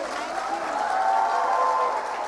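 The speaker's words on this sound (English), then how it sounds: "Big round of applause" An audience at an award presentation applauds steadily at moderate, somewhat distant volume, a continuous wash of clapping with faint cheering mixed in.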